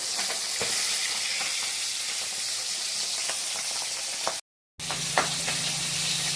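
Pabda fish frying in hot oil, a steady bright sizzle with scattered sharp pops and spatters, close up, continuing after a brief cut, with no talking.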